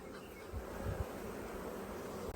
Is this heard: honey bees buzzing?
yes